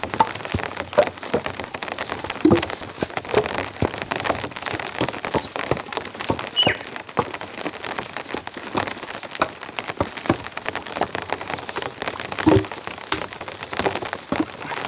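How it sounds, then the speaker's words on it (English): Heavy rain pelts a tarp strung over a tent at a campsite during a hail storm, a dense, continuous close patter with sharper individual hits scattered throughout. "The rain's intensifying. It's getting pretty heavy now."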